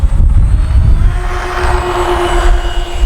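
Scale RC B-25J Mitchell warbird model, a Flightline kit, roaring down the runway on takeoff with a steady, loud engine drone and whine sustained throughout, no talking.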